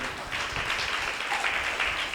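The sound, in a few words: congregation clapping hands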